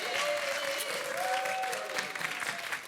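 Modest studio audience applause on a French television dating show, a soft patter of clapping heard faintly alongside a sustained tonal musical sound.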